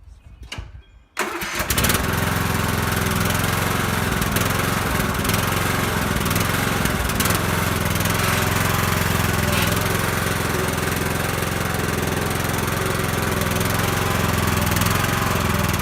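A Toro lawn tractor's engine cranks briefly and catches, then settles into a loud, steady, close-up running drone that holds without pause for the rest of the stretch.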